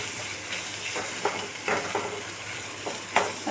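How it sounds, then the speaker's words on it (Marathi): Spices with asafoetida and turmeric sautéing in a pan for pav bhaji, a soft steady sizzle broken by faint scraping stirs at irregular intervals, close and fairly quiet with no one talking. "थोडासा हिंग टाकायचा आहे, हळद टाकायची आहे यात थोडीशी। परत छान परतून घ्यायचं आहे"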